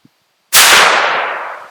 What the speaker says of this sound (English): 410, I pull down, I recock the gun,